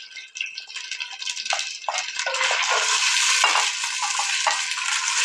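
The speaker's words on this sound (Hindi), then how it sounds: "अब इसमें 3 कटे हुए प्याज मीडियम साइज के शामिल करेंगे। इसको अच्छे से फ्राई करेंगे।" Chopped medium onions fry vigorously in hot oil for an aloo chicken curry, a loud continuous sizzle with stirring scrapes and clatters of the utensil against the pan.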